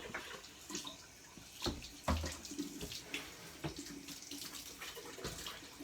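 Filtered water pours steadily at close range, with soft splashing and a few louder knocks from a container being handled during the flow.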